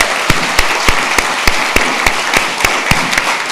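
Sparse, rhythmic clapping from a small group at a university graduation ceremony in Singapore, a few sharp claps standing out steadily over a few seconds.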